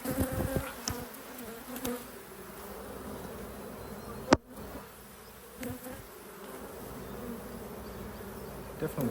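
Honeybees swarming densely around a packed hive, a steady close buzzing drone with individual bees zipping past the microphone and a brief sharp knock partway through.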